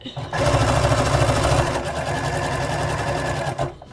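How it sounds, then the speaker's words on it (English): A sewing machine runs in one continuous loud burst, back stitching along a serged hoodie seam, with a steady rapid needle rhythm from start to stop. "Go right up to the edge of the serging and back stitch."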